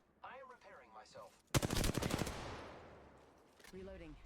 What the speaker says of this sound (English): Trying to get some shots off with a 301.